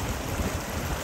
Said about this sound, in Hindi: समंदर बहता हुआ पानी